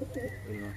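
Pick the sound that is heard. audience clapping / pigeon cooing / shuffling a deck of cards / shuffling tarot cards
pigeon cooing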